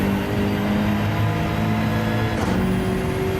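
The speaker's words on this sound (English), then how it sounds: "Maybe the BMW is just a loud car." A BMW Gr.3 racing car engine in Gran Turismo 7 drones steadily at high revs, a loud continuous hum with a slight shift in pitch partway through.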